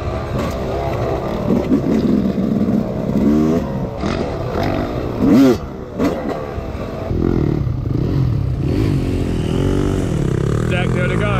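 A Honda CRF 450 dirt bike rides a trail in New Zealand, its engine revving and roaring in surges with clattering, while a voice talks over the motor noise.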